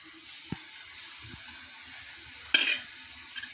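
Appam batter hits a hot appam pan, a sudden loud sizzle burst near the end after quiet clinks and soft kitchen noise, with no talk over it.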